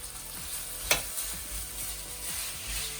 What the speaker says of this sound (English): add some mustard seeds. They will start to pop when they're ready.